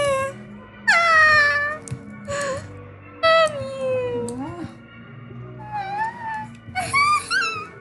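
A cat in the game Star Stable Online meows repeatedly, loud and close, with a series of drawn-out, wavering cries separated by short pauses.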